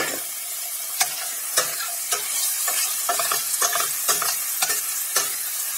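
Tomatoes and red chili cook in a frying pan with a steady close sizzle, while a utensil repeatedly stirs and taps against the pan in a fairly regular rhythm. Nobody talks.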